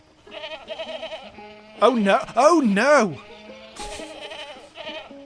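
Cartoonish sheep bleating from the video game Sheep It, several loud wavering bleats in a burst mid-clip, with someone speaking briefly before and after.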